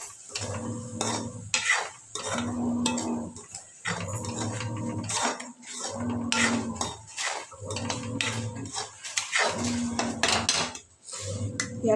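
A spice paste mixture is stirred around a pan in repeated, rhythmic scraping strokes, each pass a close, wet churning with metallic clinks of spoon on pan and light sizzling between strokes.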